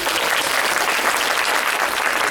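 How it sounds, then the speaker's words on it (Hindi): Audience at a storytelling show at a cultural centre in Delhi applauds children, a loud, dense, continuous wash of clapping with no speech. "तो जोरदार तालियां बजा दीजिए बच्चों को।"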